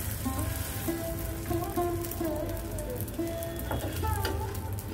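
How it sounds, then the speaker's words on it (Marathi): Buttered dabeli buns toasting in a hot pan give off a steady soft sizzle throughout, with faint higher tonal sounds drifting over it and nobody speaking. "ते आपण दाबेल्या भाजून घेऊया मस्तपैकी."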